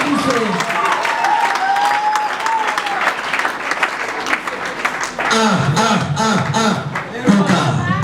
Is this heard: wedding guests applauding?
yes